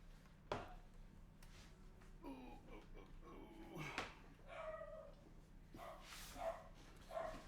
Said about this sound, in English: Oh, the dog is out there, and the dog is mad.